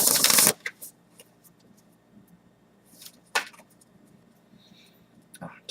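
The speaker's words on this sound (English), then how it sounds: "Taking a little extra time with your shuffling" Tarot cards riffle in one loud, crisp shuffle burst at the start, followed by quieter rustles, taps and soft clicks as the deck is handled.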